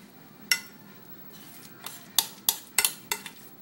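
Vegan pumpkin breakfast bar mixture is dumped into a pan. A utensil gives a series of sharp clinks and knocks against the pan, and they grow more frequent toward the end.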